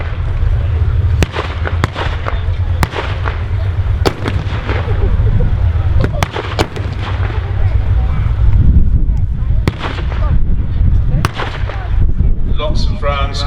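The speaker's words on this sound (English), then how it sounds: "Lots of rounds cracking across the battlefield." Gunfire and cracking rounds at a tank battle re-enactment at Tankfest 2022 in the Kuwait Arena at Bovington Tank Museum: loud, sharp reports come repeatedly at irregular intervals over a steady low rumble of engines, with a voice talking over the top.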